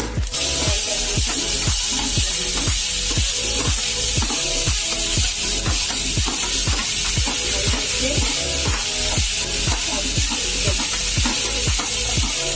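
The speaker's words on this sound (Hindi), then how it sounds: "जब तक हमारी सब्जी फ्राई हो रही है दो मिनट के लिए" Mixed vegetables frying in a pan with cumin seeds and asafoetida, a loud, steady sizzle broken by regular rhythmic scraping strokes of stirring throughout.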